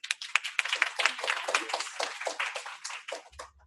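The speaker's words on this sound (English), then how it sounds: "Let's give him a round of applause" Scattered clapping from a modest workplace audience at a lunch-and-learn talk, welcoming the presenter. The claps are uneven and fairly close, thinning out toward the end.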